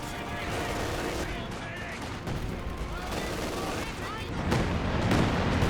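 Dense MG42 machine gun fire in the strategy game Company of Heroes 2, mixed into a thick continuous battle din of gunfire and explosions, loud and unbroken, with commentary talk over it.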